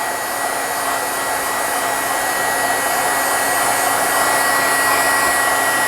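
A hair dryer blowing on ink on a board book cover, a loud, steady, close whirring hiss that runs unbroken for about six seconds with no talking.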